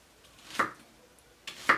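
A knife slices brussels sprouts on a cutting board with two quiet, crisp cuts about a second apart, each a short crunch followed by a light knock on the board.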